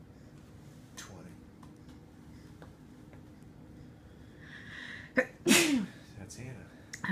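A person sneezes once during a physical therapy practice session, a sharp burst coming right after a short catch of breath, with people talking quietly around it.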